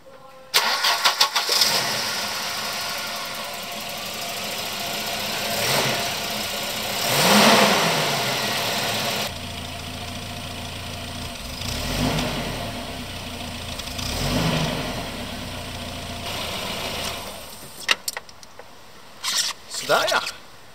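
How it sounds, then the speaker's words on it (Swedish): A Volvo 240 with an ignition problem cranks and starts, then settles into a steady idle with a few swells of revving, close by, with tool clatter near the end. "att äntligen få igång bilen igen"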